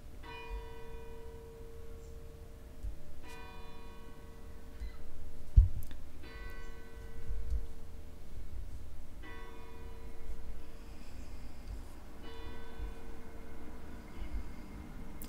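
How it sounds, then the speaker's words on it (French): Church bells ringing at a distance, repeated faint tolls in a slow regular rhythm over quiet background noise, with no talk. "Les cloches de l'église."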